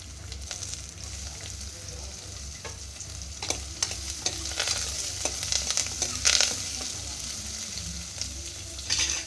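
Chopped onions and green chillies stir-fry in hot oil in a pan, giving a steady soft sizzle with scattered scraping and clinking stirs of a spoon against the pan.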